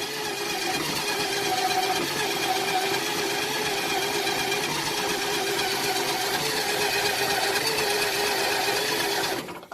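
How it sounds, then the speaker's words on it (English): A Duromax 440cc engine fitted to a Kawasaki Mule runs on a cold start, giving a steady, loud, fast mechanical clatter that holds evenly for nearly ten seconds before cutting off abruptly at the end. "So go ahead and crank her up. Yeah, this is a cold start"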